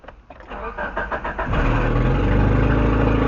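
Geo Tracker project vehicle with the hood open, cranked over with a rapid whirring starter for about a second and a half before catching and settling into a loud, steady idle nearby.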